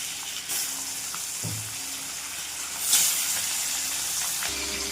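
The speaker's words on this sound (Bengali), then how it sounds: "এবার মাছটা কড়াইতে দিয়ে দিলাম" Catla fish pieces rubbed with salt and turmeric frying in hot oil in a wok, a continuous loud sizzle with a brief burst of spattering midway, heard without speech.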